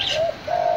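A pair of spotted doves coo softly nearby, two short coos in quick succession with no talk over them.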